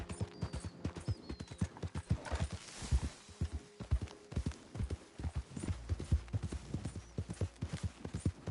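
Horse hooves trotting in Red Dead Redemption 2, a steady, fairly close clip-clop rhythm running throughout, with faint tack and ambient sounds underneath.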